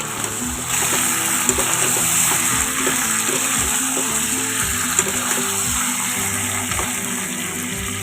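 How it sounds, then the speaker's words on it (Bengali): Masala being fried with salt and a little sugar: a loud, steady sizzle fills the whole stretch, with faint spatula knocks scattered through it. "পরিমাণ মতো লবণ আর একটুখানি অল্প চিনি দিয়ে আর একটু ভালো করে কষিয়ে নিচ্ছি"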